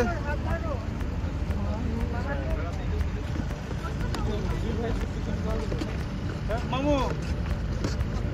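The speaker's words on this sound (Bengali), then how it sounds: "সবাই উঠতেছে নৌকাতে।" Several people climb into a small tourist boat on the water at Misaieed, Qatar, with wind buffeting the microphone, water and motor rumble underneath, and people talking and calling out over it.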